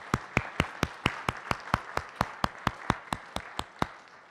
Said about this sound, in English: I think it'd be nice if you guys all give her a nice round of applause